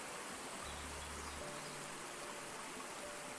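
Steady flowing water from a cascade, a constant broadband rushing wash with no breaks, with a low hum briefly underneath.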